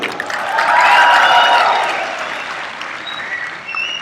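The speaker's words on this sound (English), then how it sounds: "And a big round of applause to all of you." An audience at a Google I/O Extended event in Sri Lanka bursts into applause. The clapping swells quickly to a loud, full peak, then gradually thins and fades over a few seconds.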